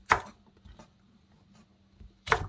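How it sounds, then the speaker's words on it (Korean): A knife cuts cheongyang chili peppers into chunky pieces on a cutting board: two distinct, sharp chops spaced about two seconds apart, with faint soft taps between them in a quiet kitchen. "청양고추 11개 정도 준비를 했는데요. 썰어 볼게요. 약간 큼직하게 썰어줄 거예요."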